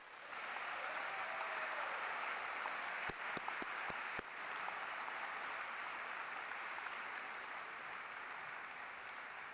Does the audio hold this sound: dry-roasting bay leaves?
no